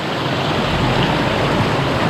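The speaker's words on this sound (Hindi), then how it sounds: "यहाँ ऊपर से आ रहा है झरने का पानी जो बहता हुआ नीचे की तरफ जा रहा है" A mountain waterfall on a trekking trail sends water pouring and rushing downhill in a loud, steady, dense roar with no pauses, heard up close.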